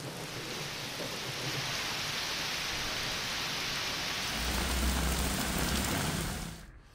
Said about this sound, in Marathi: पुण्यात सकाळपासूनच पावसाची संततधार दिसते